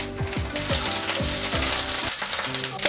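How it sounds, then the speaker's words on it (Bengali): Grated coconut sizzles in hot mustard oil in a frying pan, a steady close crackle overlaid with repeated scraping and tapping of a spatula against the pan, with no talking. "এবার এই নারকেল কোড়াগুলো আমি একটু ভেজে নেব।"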